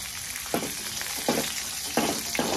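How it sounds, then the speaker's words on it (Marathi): Cumin and mustard seeds crackle and sizzle in hot oil for a tempering, with several sharp pops over a steady fry hiss, close and fairly quiet. "जिरी मोहरी छान तडतडले"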